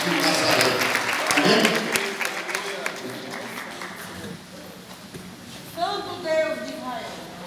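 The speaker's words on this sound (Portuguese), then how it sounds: "Jesus, uma salva de palmas" A crowd at a church revival service claps loudly at first, then the applause fades out while a voice carries on speaking over it.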